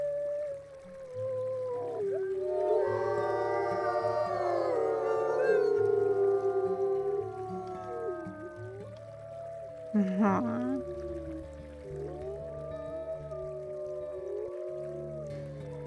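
Wolves in the WolfQuest video game howl together, a chorus of overlapping rising and falling voices over a low in-game background hum, with a short sharp call standing out midway.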